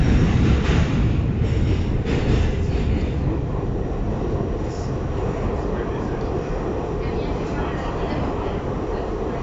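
A New York subway Q train bound for 96 St, running on the B/F line between Grand St and Lexington Av-63 St, rumbles steadily and loudly throughout. The wheel and motor roar is continuous, with no talk over it.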